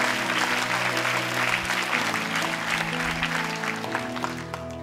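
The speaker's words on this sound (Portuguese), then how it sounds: "Dê um aplauso bem forte ao Senhor." A church congregation claps together at a Sunday service, dense sustained applause filling the room at steady loudness, with an organ or keyboard chord holding underneath.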